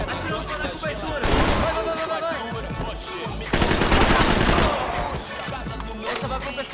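Heavy automatic gunfire from Max Payne 3 tears into cover in dense, sustained bursts, swelling loud around the middle and end, with a voice talking over the shooting.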